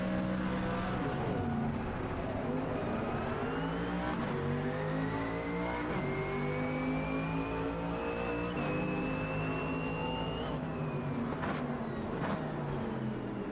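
Race cars in the Automobilista 2 racing game drone steadily through a continuous engine note, with pitch rising and falling through gear changes and other cars audible close by; no one speaks.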